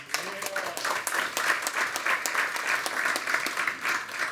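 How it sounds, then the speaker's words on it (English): Steady applause from an audience at a meetup, a dense wash of many hands clapping continuously at a moderate level with no break. "Clap for Edward."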